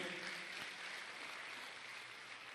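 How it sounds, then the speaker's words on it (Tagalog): An audience at a Filipino church service claps, a quiet, even wash of applause holding steady from start to finish. "O malakas uling palakpak para sa Lord."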